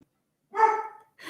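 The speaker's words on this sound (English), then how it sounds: "You can hear Hilo barking" A single dog gives one clear bark, moderately loud and fairly near, followed a moment later by the start of another bark, with silence around them.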